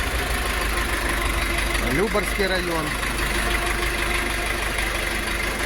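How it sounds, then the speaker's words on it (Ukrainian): Jinma 404 tractor with a 490 engine idling at a dealer's loading yard, a steady low rumble running throughout under a voice. "Ось такий тракторець з кемовським мотором"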